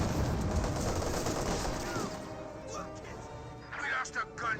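Rattling machine gun fire in a Company of Heroes 2 battle between Soviet and German forces, dense bursts of shots and booms early on that thin out into scattered distant impacts, with a commentator's voice underneath.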